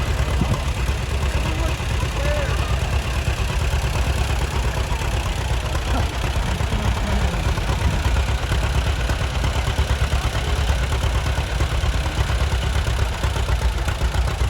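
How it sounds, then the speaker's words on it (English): A 1937 John Deere A tractor engine runs steadily at an outdoor farm-days parade, a continuous low rumble with broadband crowd and wind noise, no clear speech over it. "Next we have a 1937 John Deere A."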